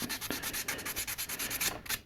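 A super fine sanding sponge with a little water wet-sands thin primer on a curved surface of a 1/72 Sinanju model kit. The strokes are soft, quick and rhythmic, with faint, steady back-and-forth rubbing.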